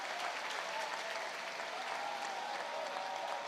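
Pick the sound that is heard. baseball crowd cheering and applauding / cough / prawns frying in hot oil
baseball crowd cheering and applauding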